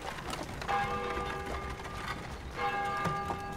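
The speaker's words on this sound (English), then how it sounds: "Still ring the curfew bell." A town curfew bell ringing in old-fashioned Casterbridge, two resonant ringing strokes with lingering hum, heard at moderate distance over a low mechanical rumble.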